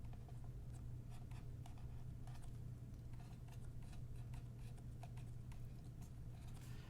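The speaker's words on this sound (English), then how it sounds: "So I'm going to go ahead and write that down." A pen scratches out notes in short, quiet strokes over a low, steady hum, faint and close, with no talking.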